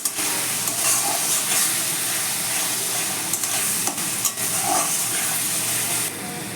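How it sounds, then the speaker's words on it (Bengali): Masala paste with turmeric and Kashmiri chili sizzles steadily in a pan for a katla fish curry, with occasional scraping sounds of stirring over the constant hiss. "এবার আমি ভালো করে মশলাটাকে কষবো যতক্ষণ পর্যন্ত না মশলা কাঁচা গন্ধটা চলে যায়"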